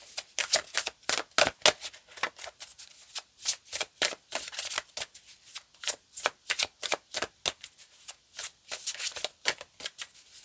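Tarot cards shuffled by hand while drawing clarifier cards in a pick-a-card reading, giving a close, crisp run of rapid papery riffles and snaps in irregular bursts over about ten seconds, with no talking.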